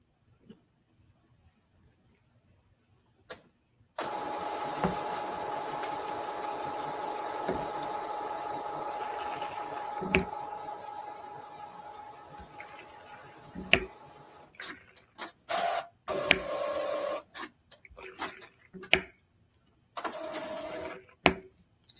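An Epson 15000 wide-format printer running, a steady mechanical whir and hum for about ten seconds that breaks into scattered clicks, knocks and short bursts of carriage clatter, close and moderately quiet, with no talking.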